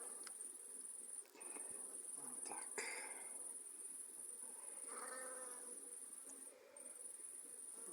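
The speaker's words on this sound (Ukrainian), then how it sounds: "От одна бджола щось за мною літає." A faint honeybee buzz drones around alongside a steady high whine, with quiet rustling and murmured talk in the background, beside beehives.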